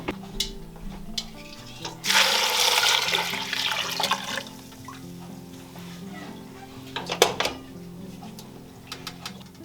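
Water from boiled diced potatoes pours out in a rushing gush that swells and then trails off, with scattered clinks and clatter of the pot around it.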